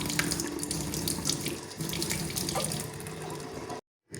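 A kitchen tap runs steadily into a sink, a close, continuous gush of water that stops abruptly near the end and briefly resumes.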